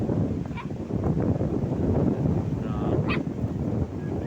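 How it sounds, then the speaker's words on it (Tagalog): Strong sea wind at Balaoi beach in Pagudpud, a steady broadband roar buffeting the microphone throughout, with faint bird-like honks briefly rising above it. "Ang lakas ng hangin. Dinig nyo naman siguro yung background."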